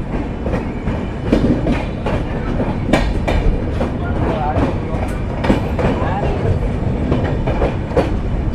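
Sealdah–Jalpaiguri Road Humsafar Express at New Farakka Junction platform, a steady loud rumble of rail cars with periodic sharp clacks and knocks recurring every second or so, under station bustle.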